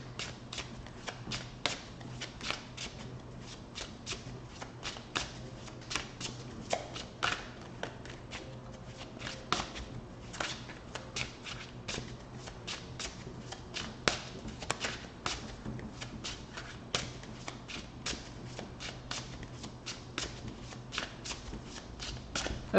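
A tarot deck is shuffled by hand in a long run of quick papery riffles and flicks, close and crisp, with soft rustling between bursts and no speech.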